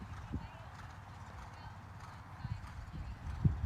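A horse canters in a dressage test at an Intermediate-level horse trials event, its hoofbeats thudding in an even three-beat cadence over a breezy, rumbling outdoor background, moderately close.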